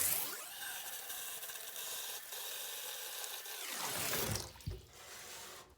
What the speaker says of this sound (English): So you want to fill up your tub with warm water.